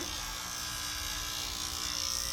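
An Andis electric hair clipper fitted with a yellow 16 mm adjustment comb hums in a constant, close, unbroken buzz for the full stretch, with no voices over it.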